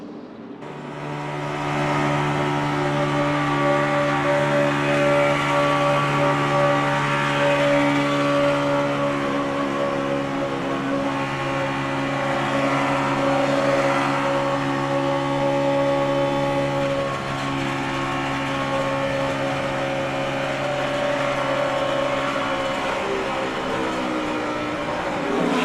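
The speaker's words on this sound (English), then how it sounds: "As let's give a listen to David Ragan's engine as he goes down the backstretch." David Ragan's NASCAR race car engine on the backstretch at the 2011 Aaron's 499 holds a steady, loud drone that rises and shifts slightly in pitch as it speeds along, with no voices.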